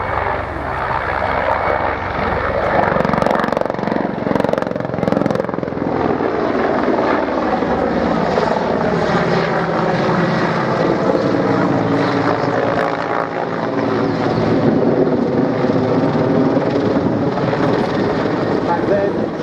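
Helicopters flying a display at the Biggin Hill airshow, a loud continuous rotor and engine roar that holds steady throughout, with a commentator's voice running over it.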